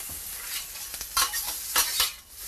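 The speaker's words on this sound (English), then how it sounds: "jalapenos onto the grill to get those nice and hot." Jalapeño peppers hitting a hot grill with oil, a bright sizzle that flares in a few quick bursts as they are tossed, close and fairly loud.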